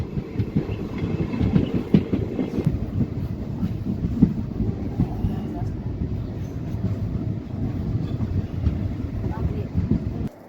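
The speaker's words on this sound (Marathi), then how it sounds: "निघण्यासाठी तयार आहे बार्शी येथून मित्रांनो आपली पंढरपूर एक्सप्रेस" The Pandharpur Express pulls away from Barshi station with a continuous low rumble and rhythmic clickety-clack of wheels over the rails, while a voice talks over it.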